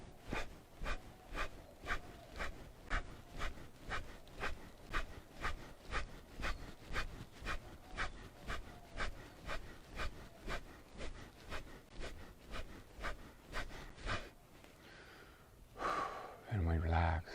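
Rhythmic breathing exercise in a sunrise shamanic session: a long series of quick, forceful breaths repeats at a steady pace, then gives way to quieter breathing and a brief sound at the end.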